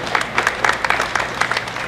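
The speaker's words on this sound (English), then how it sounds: "You clap for that." Audience at a governor's town hall event in Eau Claire claps in scattered bursts, a loose irregular patter of hands that stays fairly close and moderately loud.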